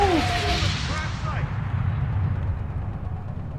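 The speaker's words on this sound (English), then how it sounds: "Gotta love the big explosions." Big explosions in the video game Mass Effect 3: a loud, sustained rumbling blast with booming low end and fading debris, filling the whole moment with no clear pauses.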